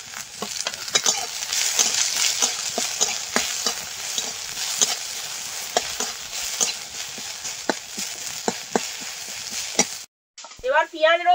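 Cumin, whole garlic and chopped onion fry in a pan, a steady close sizzle broken by frequent scraping stirs, ending with a brief pause and a short burst of voice.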